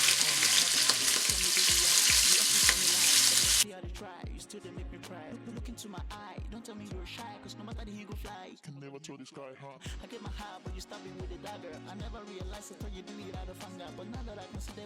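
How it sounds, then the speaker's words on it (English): Meat sizzling and frying in a pan for Nigerian efo riro vegetable soup, loud and steady at first, then quieter amid rhythmic music with sharp beats. "you drop it like this. So you can fry"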